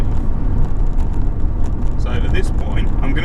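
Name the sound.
car engine accelerating toward 40 mph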